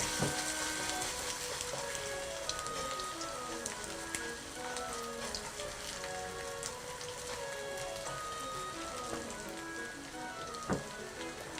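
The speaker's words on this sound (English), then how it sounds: "Potato pancake fry." Potato pancake frying in hot oil in a pan, a steady dense crackling sizzle with popping spatters throughout, no voices.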